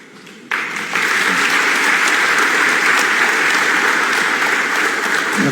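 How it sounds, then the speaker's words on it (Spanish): An audience at a talk on free hardware and software for education breaks into applause: dense, steady clapping that starts abruptly and holds at full strength throughout. "No hace falta aplaudir por todo"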